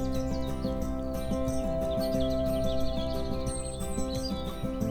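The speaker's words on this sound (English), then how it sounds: "The singing birds." Birds chirp and trill outdoors in the Swiss Alps, their calls fairly faint and scattered over a steady, mellow musical backdrop that runs throughout.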